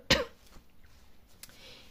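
One sharp, close cough from someone ill with a lingering cough, followed by a faint second cough or throat sound about a second later in a quiet room.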